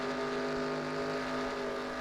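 Race cars lapping Dover in NASCAR Racing 2003, a steady high-pitched engine drone with sustained harmonic whine, loud and continuous with no talking.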